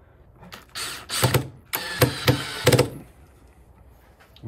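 A power driver sets 2-inch exterior screws into a whiskey barrel bar in several short, loud bursts of whirring and ratcheting, with brief pauses between them.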